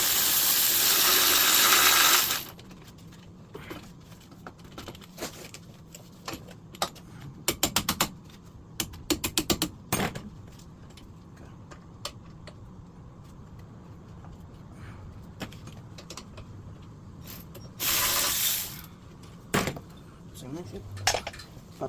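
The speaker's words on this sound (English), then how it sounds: "all we're going to do right now is just take the caliper off and hang it up" Brake caliper being removed from a 1983 Cadillac Coupe DeVille, heard as scattered metallic clinks, taps and ratchet-like clicks close by, with a burst of loud broadband rustle at the start and another near the end.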